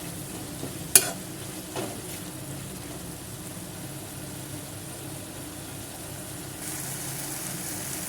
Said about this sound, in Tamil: தக்காளி நல்லா வதங்கும் போதே கருவேப்பிலையும் சேர்த்து நல்லா வதக்கிக்கலாம்.